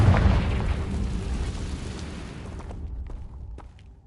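Confringo fire explosion spell in the Hogwarts Legacy video game, a loud low booming blast at the start that rumbles and fades away over a few seconds.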